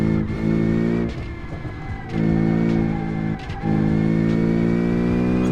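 SBR4 hill climb race car with huge wings in BeamNG.drive, engine revving hard and loud with a steady harmonic drone, dipping briefly between gears before pulling again down a straight, no talk.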